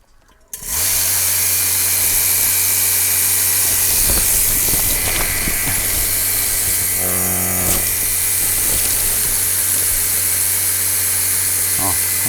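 A vacuum pulls air out of a silage bag made from Sudan grass, a loud, steady suction whine with a constant hiss that starts abruptly and runs throughout, with faint handling noises partway through.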